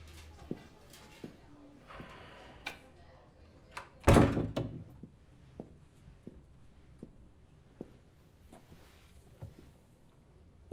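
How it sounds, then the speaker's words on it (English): A door shuts with one solid, close thunk in the middle of a quiet room, surrounded by faint scattered ticks and small knocks. "Close the door."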